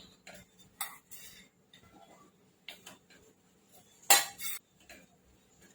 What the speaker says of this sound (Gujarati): હવે ભાત એડ કરી દઈશું અંદર આપણે।